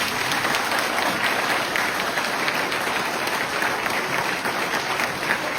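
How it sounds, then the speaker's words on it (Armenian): A gathering of village residents in Armenia applauds, sustained dense clapping from many hands at an even, loud level throughout, with no voices on top. "նա ծափ տվեք տաքացեք։"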